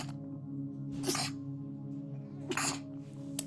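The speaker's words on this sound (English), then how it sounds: "I'm about to sneeze." Two short, loud bursts of a sneeze, roughly a second and a half apart, with a small third catch near the end, rising over a steady background hum.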